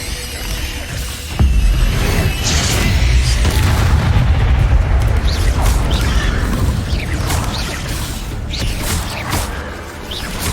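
An Incendio fire spell is cast in Hogwarts Legacy, heard as a loud booming burst followed by a roaring, crackling rumble that slowly fades.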